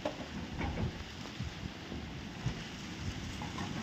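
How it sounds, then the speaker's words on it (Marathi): Light drizzling rain outdoors in the evening with wind, a faint, steady hiss of patter and gusty rumble, distant and low in level with no voices. "रिमझिम पाऊस येतोय."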